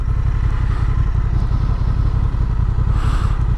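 Honda Transalp 750 motorcycle being ridden, a steady low engine rumble with wind and some road clatter, loud and continuous, with no one talking.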